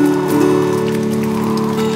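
Steady falling rain patters densely on a surface, loud and close, with a sustained low droning hum running beneath the continuous pattering.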